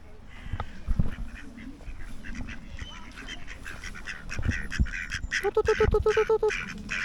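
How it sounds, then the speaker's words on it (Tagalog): Ducks quack in a park, a run of loud repeated quacks near the end over a busy outdoor background, with a person talking throughout. "Ang daming bibi, kahit saan ka makita ng ano, ang daming bibi."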